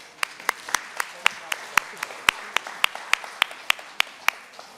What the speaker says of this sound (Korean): 역시나 박수로 축하해 주십시오.